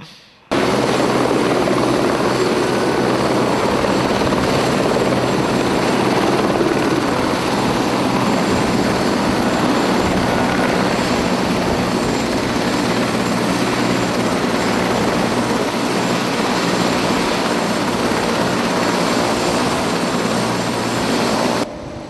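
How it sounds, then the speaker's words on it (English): Steady, loud roar of a helicopter in flight over Monaco, a constant dense engine and rotor noise lasting the whole stretch without pause. "that was a little bit more of the helicopter shots in Monaco."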